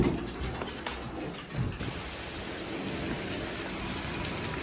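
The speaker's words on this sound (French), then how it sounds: "comme vous l'aurez compris, il pleut" Rain falls steadily outdoors near a bus stop, an even broadband hiss of drops on surfaces with a few louder splatters early on, close and continuous without speech.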